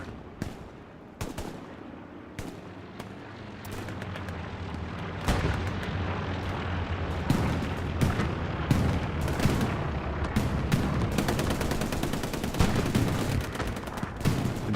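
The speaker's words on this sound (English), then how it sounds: "Gets up a little bit of machine gun fire," Machine gun fire in Hell Let Loose during a large Omaha Beach battle, with distant booms and bursts of automatic fire that grow denser and louder, sharp cracks scattered over a rumbling background.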